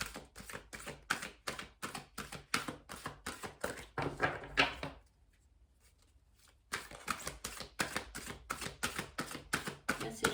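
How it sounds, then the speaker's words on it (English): Tarot cards are riffled and shuffled in rapid, crisp bursts of papery slaps close by, pausing briefly in near silence before the brisk shuffling resumes. "We'll do one last shuffle."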